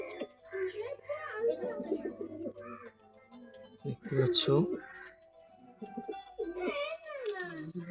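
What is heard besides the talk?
Motiyal pigeon from Pakistan cooing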